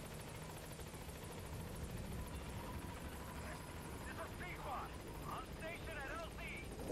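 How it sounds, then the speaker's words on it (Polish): A helicopter arrives in the video game Metal Gear Solid V: The Phantom Pain, a steady rotor-and-engine rumble that holds throughout under game ambience, with faint chirping sounds late on. "wezwijmy sobie helikopter w takim razie"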